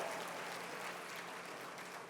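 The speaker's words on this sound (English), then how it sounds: "give them a hand clap" A dinner audience at the 2024 HRC National Dinner applauds, a steady wash of clapping from many hands that holds evenly and fades slightly at the end.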